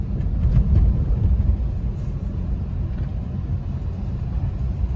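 A car approaches along a road during a driving lesson on gear changes, a steady low rumble that stays fairly loud and even throughout with no talk.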